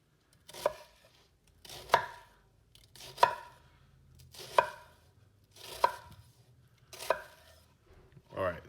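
A kitchen knife slices through an onion on a cutting board in seven evenly spaced, crisp chops, close and clear with quiet gaps between strokes.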